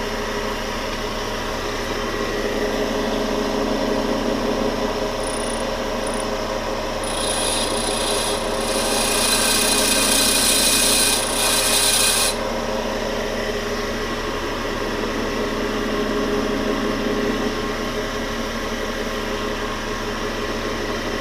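A cutting tool bit is ground to put back rake on it, giving a steady abrasive rasping drone with a brief bright hiss in the middle, close and loud, with no talk.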